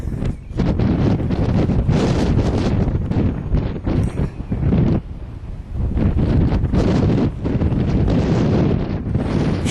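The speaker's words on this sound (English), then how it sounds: "It's quite windy, but at least it's not raining yet." Strong, gusting wind on an open country walk in the Yorkshire Dales, Swaledale, buffets the microphone with a loud, continuous roar that dips briefly around the middle before surging again.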